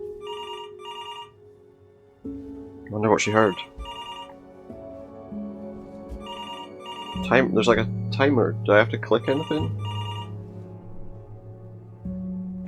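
A telephone rings in the narrative game Before Your Eyes, with repeated electronic ring bursts over a steady tonal music bed as a person talks over it.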